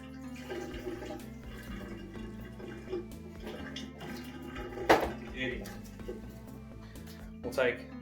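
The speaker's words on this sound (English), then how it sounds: "we're just going to give that a bit of a quick wash off just to get the starch off it." Potatoes rinsed under running water to wash off starch in a home kitchen while cooking potato and leek soup, a steady splashing wash with clinks of dishes and a few louder knocks, under continuous talk.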